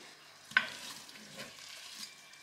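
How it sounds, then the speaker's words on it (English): A spoon stirs bacon and lentil soup in a pot, giving one short sharp scrape followed by faint, soft stirring noises in a quiet room. "Stir it round."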